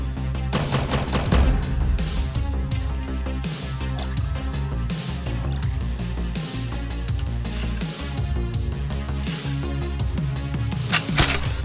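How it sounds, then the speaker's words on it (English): Rapid plasma autocannon bursts from the video game Mainframe Defenders, a dense run of gunfire-like shots layered over a steady game music bed, with no talk. "use our plasma autocannon to kill it"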